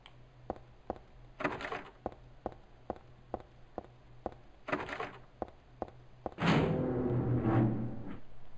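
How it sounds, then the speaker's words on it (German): A locked door in the Silent Hill 3 video game gives a run of sharp, evenly spaced clicks, about two per second, broken by short scraping bursts and ending in a louder rushing swell. "Wenn sie abgeschlossen ist, Klick."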